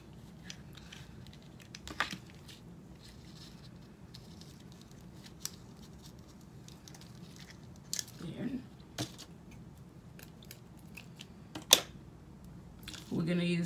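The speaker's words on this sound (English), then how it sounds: "Now we're going to be cutting the trim from Walmart" Several sharp snips of scissors cutting through decorative trim, scattered and close, with quiet handling noise in between.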